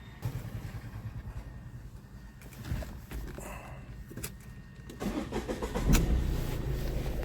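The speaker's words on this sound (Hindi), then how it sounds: "तो अब गाड़ी को स्टार्ट कर रहे हैं।" A car engine starts outdoors, a low rumbling idle picking up and swelling in bursts at moderate distance, with faint footsteps and background movement.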